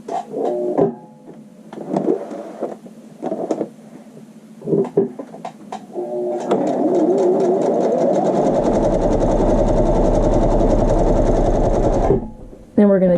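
A sewing machine stitches a fabric swatch with a steady, loud mechanical whir that runs continuously for several seconds, preceded by brief start-stop bursts, with a person talking around the stitching.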